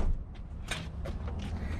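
A large storage compartment door on an Entegra diesel pusher motorhome opens with a short series of close mechanical creaks and clunks from its latch and hinges, heard alone.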